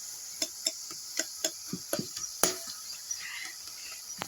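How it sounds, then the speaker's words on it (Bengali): A ladle stirs pineapple chutney in a pan, giving a series of sharp, evenly spaced clinks and scrapes, close and fairly quiet, with a soft sizzle underneath. "এইবার আমি হাতায় করে একটু এই ঘেটে ঘেটে দেবো আনারসটা"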